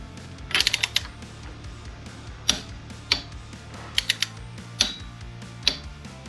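A wrench tightens the SW-Motech bar riser bolts on a Triumph Tiger 900 GT Pro motorcycle, with close, sharp ratchet clicks coming first in a quick burst and then as single clicks spaced across the stretch, with no talking.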